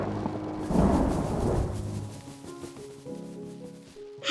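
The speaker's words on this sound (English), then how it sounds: "It was thunder." A thunder clap rolls in as a loud deep rumble that swells, then fades into a long low grumble and trailing rumbles.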